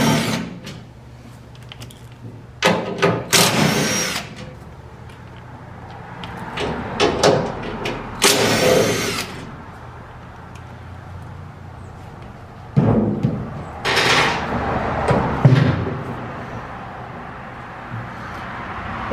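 A power tool with a 5/16 driver takes out the cover screws on a Vulcan Outlaw 195 welder, giving several short, loud whirring bursts close by, with quiet gaps between them.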